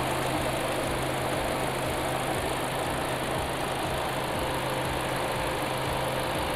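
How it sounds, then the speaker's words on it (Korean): A Kia K5 second-generation sedan with a 2.0 LPI engine idles steadily with an even low hum and a faint rhythmic ticking, heard close from the open engine bay with no talk. "엔진 소리 일정하네요"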